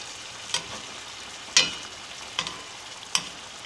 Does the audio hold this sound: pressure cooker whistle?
no